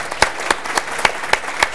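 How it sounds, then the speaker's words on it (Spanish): Applause from the audience at the closing of an International Internet Day event, heard as regular, evenly spaced claps about every quarter second, loud and close, with no talking over it. "Les pediría un aplauso para nuestro panel."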